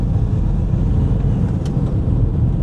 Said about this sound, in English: It's just making so many weird noises, this car.